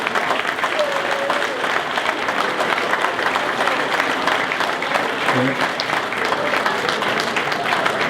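A crowd at a football club presentation night gives a sustained, dense round of applause for a departing figure, steady and loud throughout with faint voices mixed in.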